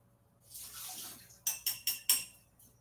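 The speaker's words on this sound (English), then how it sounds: "all I'm going to do is now pour out the water and catch the seeds in this fine mesh strainer" Water poured out through a fine mesh strainer to catch garden seeds: a soft rising splash, then four quick gushing pulses, close and fairly quiet.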